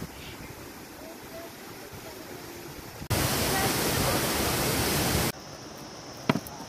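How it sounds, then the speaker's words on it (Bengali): Water pours down Changey Falls in a steady broadband rush, with a louder, closer surge of roaring flow in the middle before it settles back to a softer constant wash. "এই জলের ধারা যেন বয়ে চলেছে তার নিজের একটা উদ্দেশ্যে।"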